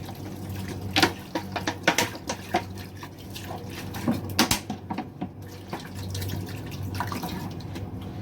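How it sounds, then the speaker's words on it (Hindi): Water splashing and trickling into a cooking pot holding soaked chana dal, with irregular drips and bursts of pouring, close by and fairly loud. "पानी डालेंगे।"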